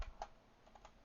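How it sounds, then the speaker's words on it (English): A few soft, sparse keystrokes on a computer keyboard, quiet and close, with no one talking. "I am not typing really too well right now."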